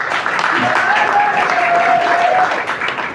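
Crowd applause at an RDPC party rally marking its 41st anniversary in Bengbis, a loud, sustained wash of clapping with murmuring voices and a thin whistling tone running through the middle.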